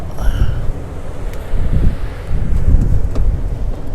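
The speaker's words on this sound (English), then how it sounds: "Very windy. I'm interested to see whether my lavalier mic is taking some of this wind out." Strong wind gusting across a Florida state park campsite, rumbling low against a lavalier microphone and swelling louder in the second half, heard alone without talk.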